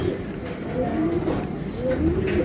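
Racing pigeons returning to a loft in Tuguegarao coo softly and repeatedly at close range, with faint background noise and a little talk nearby.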